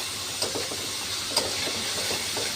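Steady, close sizzling of onion-garlic paste frying in hot oil in a kadai, a constant crackling hiss with a few brief pops, no voices.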